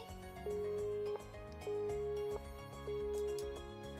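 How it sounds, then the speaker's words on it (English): Three long, steady electronic tones from a dropped cell phone call sound one after another, with short gaps between them. They sit over soft background music in a visual novel game. "the ruthless electronic buzz of the dropped call echoed"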